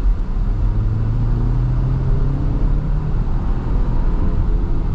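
A 2024 Kia Sportage X-Line crossover accelerates, its engine a steady, loud low drone that rises slightly in pitch over the span, heard from inside the cabin with no talking.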